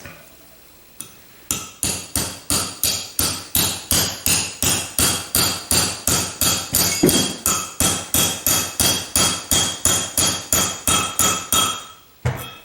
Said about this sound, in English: don't try to hammer this in without putting a bolt in it so you don't deform it